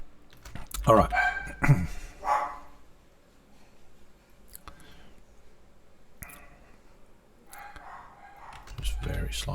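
A dog barks a few times, with a loud pair of barks early and another bark later, over a quiet indoor background with low rumbling noise.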